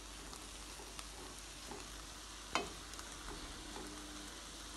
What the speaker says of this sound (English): my vegetables has been sauteed for 2 minutes